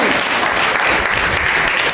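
Loud, steady applause fills a classroom during a Class 9 history lesson, dense clapping running unbroken throughout with no voices over it.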